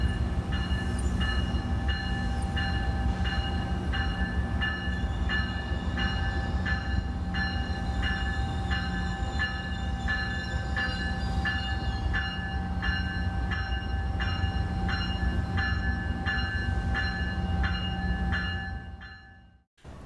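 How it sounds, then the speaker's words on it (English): A railway warning bell clangs in a steady, even rhythm over the heavy rumble of commuter trains rolling into a station, fading out at the end. "more commuter trains roll into the station, their warning bells clanging."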